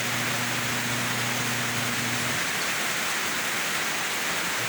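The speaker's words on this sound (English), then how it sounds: "Oh, look, it's raining." Outdoor rain falls in a steady, even hiss throughout, fairly close and moderately loud, with a faint low hum at the start and no one speaking.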